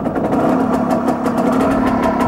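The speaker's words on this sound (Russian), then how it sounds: "Поворотом ключа запускает «Диностартер»." A TMZ Tulitsa motorcycle's two-stroke engine, run on a petrol and oil mix, idles steadily after a starter-generator start, giving a continuous low, even rumble with regular exhaust pulses, close and loud.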